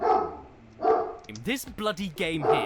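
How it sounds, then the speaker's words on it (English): Dogs bark in a room, two loud bursts near the start, then someone talks over the rest of the moment. "Sorry about the dogs."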